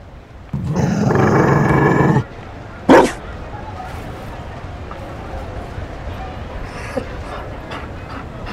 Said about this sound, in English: Hele, on tady má doga. On tady má dogu, chápete to?